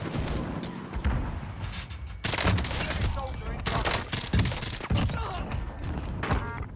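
The new CARV.2 tac rifle fires in Warzone, dense repeated bursts of loud gunshots with heavy thumps running almost nonstop, close and punchy.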